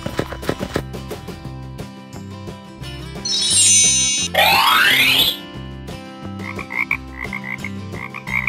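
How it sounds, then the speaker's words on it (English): Frog croaking in an animal-sounds learning clip: repeated deep, rhythmic croaks with bright boing-like and chiming sound effects layered over them, loud and close. "Frog."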